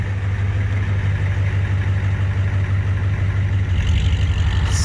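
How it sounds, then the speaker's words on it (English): An IDI diesel truck engine idles with a deep, steady, clattering rumble like an old school bus, loud and close, holding an even rhythm throughout. "this truck sounds like an old school bus."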